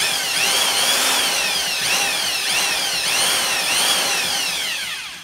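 A drill spins a Lisle 15000 cylinder hone inside an engine block bore at about 400 RPM, making a loud, continuous whirring grind that swells and dips as the hone moves up and down.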